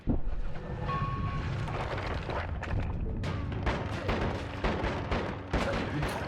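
A wand firing bullets in Noita, rapid repeated booming shots in a dense, continuous barrage, loud and close, with a brief voice at the start.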